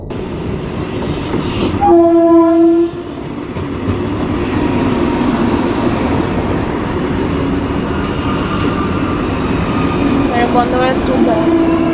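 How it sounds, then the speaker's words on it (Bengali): A Vande Bharat express train arriving at Katwa station: a loud, long horn blast near the start, then a steady heavy rumble of the train rolling alongside, with a second horn faintly later and voices in the background. "এই যে দেখতে পাচ্ছ কাটায় বন্ধ ভারত এসছে"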